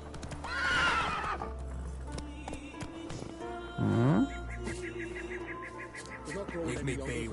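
Roach the horse in Witcher 3: Wild Hunt, with rapid clip-clop hooves under music and two loud whinnies, one near the start and a sharper one midway.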